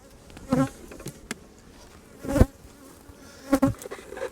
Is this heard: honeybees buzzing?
yes